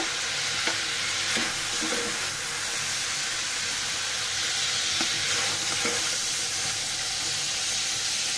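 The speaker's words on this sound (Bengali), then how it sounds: "আমি সুন্দর করে ভেজে নিচ্ছি বন্ধুরা।" Potatoes and yardlong beans fry in a pan with a steady, loud close sizzle, occasional clinks of stirring over the constant hiss, no voice.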